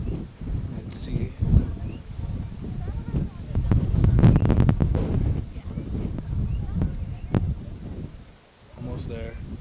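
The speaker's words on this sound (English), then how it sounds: "Ooh, it is windy up here like crazy." Heavy wind buffeting a microphone high up at an erupting Kilauea volcano, a low rumbling roar with gusts rising and falling throughout, while people talk over it.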